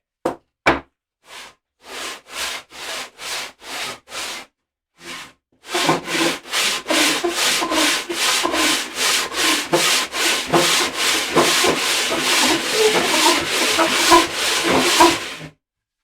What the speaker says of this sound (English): finish off that last sanding while it's stiff and not bouncing or wobbling around